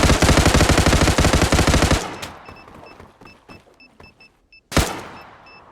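Rapid automatic gunfire in the online shooter game Zula, a dense loud burst of shots that stops abruptly, followed by quieter scattered game sounds, beeps and one more sharp shot near the end.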